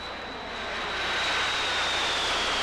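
An airplane descending to land gives a steady jet-engine roar with a high whine that swells gradually louder, heard alone and fairly close.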